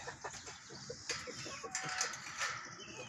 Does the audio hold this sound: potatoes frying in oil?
no